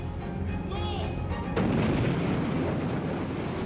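Warships open fire at dawn on a towed ocean liner, heavy booming gunfire and explosions rolling together into a loud, continuous rumble with wind-like noise, growing denser midway through.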